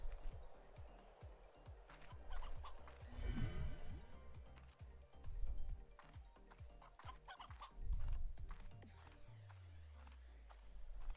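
Video game chickens on a ranch cluck and squawk in scattered bursts, one louder flurry near the middle, over steady game ambience with rhythmic low thumps and a brief falling tone near the end.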